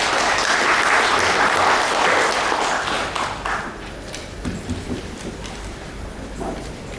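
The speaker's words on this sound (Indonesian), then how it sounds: "Mari kita sambut dengan tepuk tangan." Audience applause welcoming the head of the West Papua election commission at a gubernatorial candidate registration event, loud sustained clapping that fades over several seconds into scattered claps and room noise.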